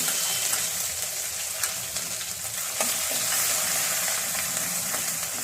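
Ginger and green chili paste sautéing with dry spices in oil for a lima bean dish, a steady close sizzle with intermittent stirring and scraping, no speech.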